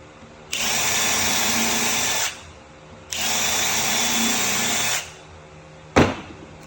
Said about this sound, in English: carefully drill.